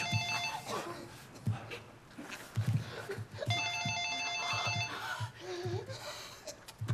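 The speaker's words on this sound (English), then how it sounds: "In this tussle, the phone rings." A telephone bell rings in two bursts of trilling rings, with scuffling, thuds and a voice or two in the background.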